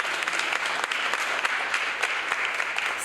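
Audience applause at a National Council of Negro Women Chicago Midwest Section event, a dense, steady burst of many hands clapping at once, filling the room without pause.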